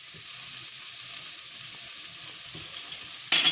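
Vegetables fry in a wok with garam masala stirred in, giving a steady, hissing sizzle under soft scraping stirs, ending in a sharper metallic clatter of the utensil.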